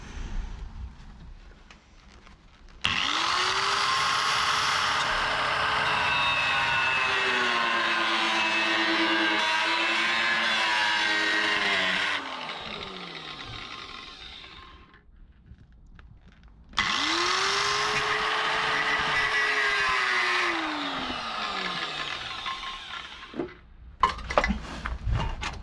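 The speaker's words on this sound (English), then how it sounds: "I'm going to attack that with my little Dremel" A small Dremel grinds into soft, rusty metal on a Rover P6, two loud sustained bursts of high whine with the motor pitch sagging under load, separated by a quiet pause and ending in short scrapes.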